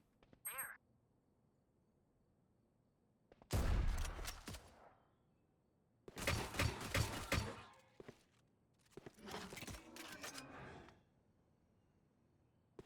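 Gunfire in a video game: three loud bursts of rapid shots and crashing impacts separated by quiet gaps, with a brief electronic blip at the start, close and punchy.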